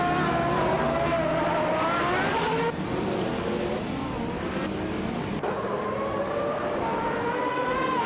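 Group C race cars led by a 1984 Porsche 962C long tail roar away from a race start at Budge International Circuit, several loud engines revving and shifting together with rising pitch and faint tire squeal.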